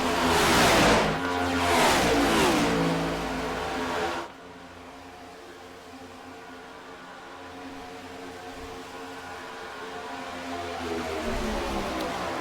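Stock cars racing in the iRacing 2025 Bud Shootout, a loud engine roar rising and passing for the first four seconds, then a quieter steady hum of cars running on, with no talking.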